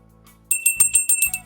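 A bell rings several times in quick succession, bright metallic tinkling strikes close by after a short quiet moment, with no voices.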